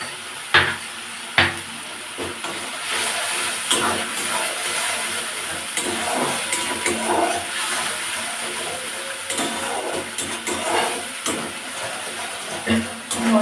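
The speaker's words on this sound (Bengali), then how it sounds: "মশলাটা খুব ভালো করে কষে নেব।" Spice paste of ginger, garlic and onion with salt and sugar sautéing in a pan for doi katla, a steady soft sizzle with scattered stirring scrapes and occasional knocks of the spoon.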